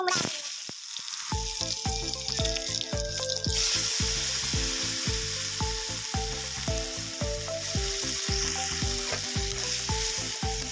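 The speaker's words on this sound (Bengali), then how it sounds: "তেলটা খুব গরম হয়ে গেছে তাই ফোড়ন দিব দেখো শুকলা লঙ্কা পাঁচ ফোড়ন" Dried red chillies and panch phoron spices hitting very hot oil for a pumpkin curry, a loud close sizzle with steady crackling and regular stirring scrapes, with faint talk underneath.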